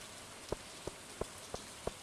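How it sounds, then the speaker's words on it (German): Steady soft rain in the video game Stardew Valley patters in the background while five evenly spaced drip-like taps land about a third of a second apart, quiet and close. "Oh, es regnet."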